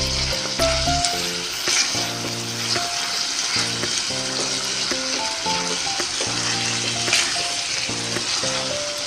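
Minced meat keema sizzles and fries vigorously in oil, a loud, constant crackle running throughout beneath steady background music.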